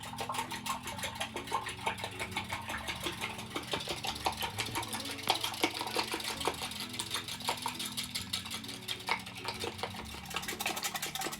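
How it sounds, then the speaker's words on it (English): Eggs whisked in a bowl for a fluffy breakfast, a fast continuous rhythm of light metallic ticks and scrapes, close and fairly quiet, with no talking. "actually want to whisk your eggs together"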